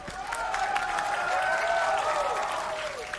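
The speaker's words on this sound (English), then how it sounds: "the crowd that you hear right now is getting very scared for kiNgg's timing" A crowd at a Valorant esports match between 100 Thieves and Leviatan lets out a sustained roar and applause, loud and steady for a few seconds before easing slightly.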